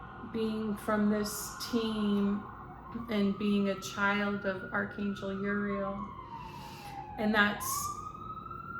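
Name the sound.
emergency vehicle sirens outside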